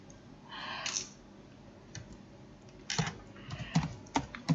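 Typing on a computer keyboard: short bursts of close key clicks separated by pauses, quiet and alone.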